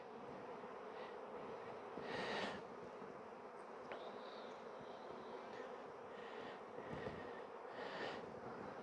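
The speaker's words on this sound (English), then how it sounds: "The bottom box is teeming with bees as well." Honeybees fill the bottom box of an apiary hive, a dense, continuous hum of many wings, close and even, with a few louder swells as individual bees pass near.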